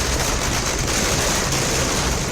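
Fireworks crackle at a party office celebration, a dense, loud, continuous barrage of rapid pops with no pauses.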